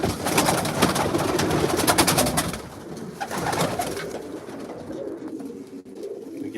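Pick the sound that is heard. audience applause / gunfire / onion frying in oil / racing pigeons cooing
racing pigeons cooing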